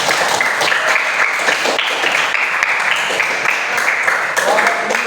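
A classroom audience applauds a student group during a teacher-training session, a dense burst of clapping lasting several seconds, close and loud, with voices mixed in.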